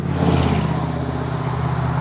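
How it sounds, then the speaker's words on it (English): Loud trucks roll past on a road in Harrodsburg, Kentucky, a heavy continuous engine roar and tire rumble that swells slightly and holds steady, close by. "Oh man, the trucks are loud."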